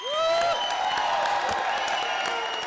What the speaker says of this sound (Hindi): तो इस बात पर जोरदार तालियां हो जाए